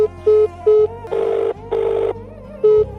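A telephone rings in a domestic scene from a stage comedy, repeated electronic trilling bursts in a regular on-off pattern, loud and close, with a few short noisy bursts between the rings.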